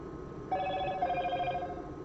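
A telephone rings with a steady electronic tone that starts half a second in and holds at moderate volume over a constant background hiss.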